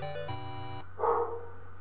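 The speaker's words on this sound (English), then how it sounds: "there's a dog in the building." A dog barks once inside a building, a short, fairly faint bark heard after a run of steady electronic tones fades out.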